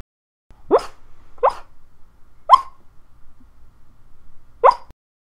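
A dog whimpers in its sleep: four short, high-pitched yelps spaced a second or so apart, close by, with near silence between them and no talking.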